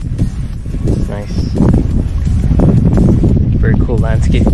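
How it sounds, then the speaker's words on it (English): Wind gusting at Riatnohkhlieh viewpoint, buffeting the microphone as a loud low rumble beneath people chatting throughout. "Yes, it is pretty windy."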